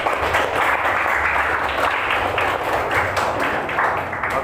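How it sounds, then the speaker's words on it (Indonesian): Students applauding in a classroom, close, loud, somewhat uneven clapping from a small group with individual hand claps standing out, sustained for a few seconds without speech. "Ayo kita beri tepuk tangan dulu"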